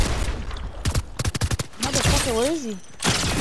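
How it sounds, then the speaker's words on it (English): Video game gunfire crackles in rapid bursts of sharp shots, loud and close, mixed with excited voices talking over the shooting. "Oh, I'm getting shot at"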